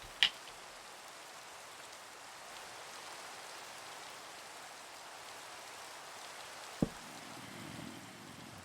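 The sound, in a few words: rain falling in a video game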